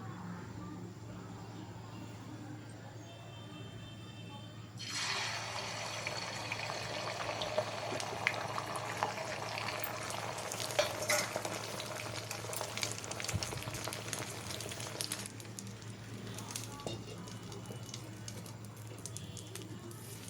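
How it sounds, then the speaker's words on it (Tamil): Omelette batter hitting a hot griddle stone bursts into a sudden loud hiss that holds steady for about ten seconds and then eases to a softer sizzle, with a faint background hum and no voices. "கல் காஞ்சிருச்சு. இப்போ ஆம்லெட்டை போட்டுக்கலாம்."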